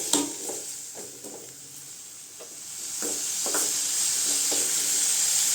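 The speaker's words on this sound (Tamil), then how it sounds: "தக்காளி நல்லா வதங்கட்டுங்க." Tomatoes sautéing with salt in a pan for ridge gourd peel chutney, a steady hiss and sizzle that grows louder over the clip, broken by a few light stirring scrapes.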